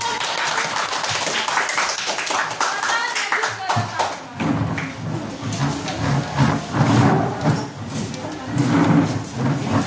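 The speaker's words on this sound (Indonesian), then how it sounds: "Kelompok satu ya, tepuk tangan dulu." A small group in a classroom activity claps hands, with bursts of clapping mixed with talking and chatter from the group.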